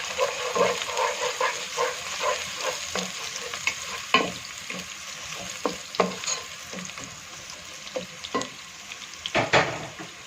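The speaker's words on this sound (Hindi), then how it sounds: "अब हम इसमें चॉप किया हुआ लहसुन डाल देंगे।" Chopped garlic and ginger frying with beef for a yakhni pulao: steady close sizzling in hot oil, broken by repeated scraping and clacks of a spoon stirring in the pot, with no talk.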